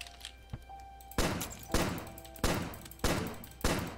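A gun firing in Starbound, starting with two faint pops and then five loud, evenly spaced shots about half a second apart, each with a short decaying tail.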